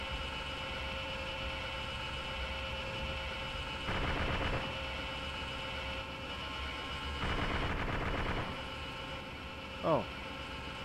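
Two short bursts of automatic gunfire in an Arma 2 battle, fairly distant and modest in level over a steady engine-like drone, followed by one sharp brief crack.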